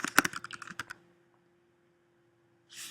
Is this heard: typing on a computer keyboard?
yes